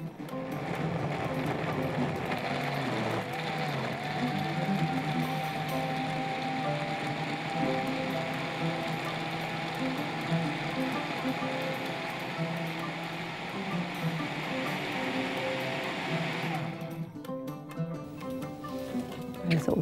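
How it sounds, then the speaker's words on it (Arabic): An electric blender whirs steadily while mixing carrot and orange juice with water, a constant buzzing motor drone that runs for about seventeen seconds before cutting off abruptly. "وبعدين هنحط المية ونضرب الكلام الجميل ده مع بعض في الخلاط."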